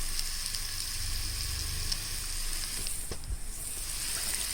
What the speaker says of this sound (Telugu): పచ్చిమిర్చి ఆనియన్ ఇలా వేగాక ఇందులోనే కొంచెం కరివేపాకు కూడా వేగాక